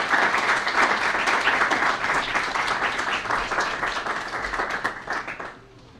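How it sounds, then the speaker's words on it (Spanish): Audience applause after a talk on post-truth in social media: a full, lively burst of many people clapping that holds strong and then tapers off into quiet at the end. "Un aplauso, por favor."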